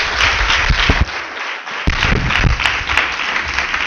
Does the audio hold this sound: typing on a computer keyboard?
no